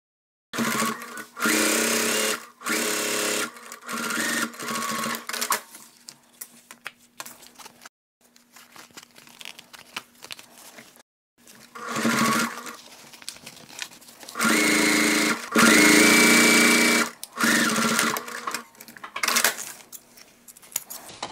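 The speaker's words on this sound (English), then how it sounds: "I'm going to sew this little edge because I think that looks pretty" Sewing machine stitching along the edge of a denim pocket cut from old jeans, several bursts of fast whirring stitching separated by short pauses and quiet handling, close up with no talk.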